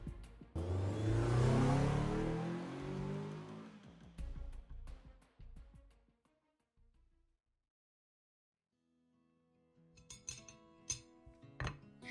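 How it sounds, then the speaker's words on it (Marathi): A car speeds away as a dramatic sound effect, a loud rushing roar that swells and then fades. Scattered clattering knocks follow, and then near silence. "वकिलांना घेऊन सक्षमची गाडी वेगाने किर्लोस्करांच्या घराकडे धावू लागली"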